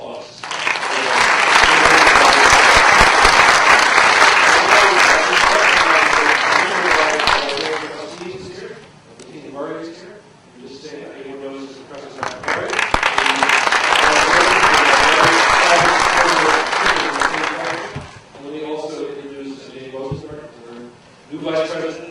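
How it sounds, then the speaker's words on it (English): Audience at an alumni reunion symposium bursts into loud, sustained applause twice, each burst lasting several seconds, with a speaker talking between and after the rounds of clapping. "So that's worthy of a moment of applause."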